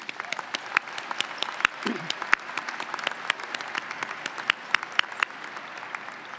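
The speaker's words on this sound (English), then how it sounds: "So let's give them a round of applause." A graduation commencement audience applauds the planning team and volunteers, sustained clapping with sharp individual claps standing out and faint crowd murmur underneath.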